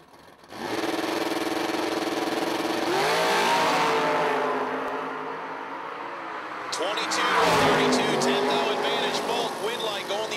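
A '79 Camaro and other drag race cars roar down the strip at a drag racing event, engines loud and sustained with a rising surge late on, under an announcer's steady commentary.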